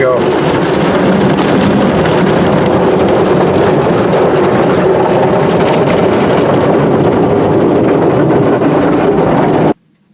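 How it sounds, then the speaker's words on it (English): An automatic car wash runs over a bright red 2017 Toyota 86 sports car parked inside, giving a loud, steady rushing spray and scrubbing roar that lasts the whole time, then cuts off abruptly at the end. "So in the car wash we go."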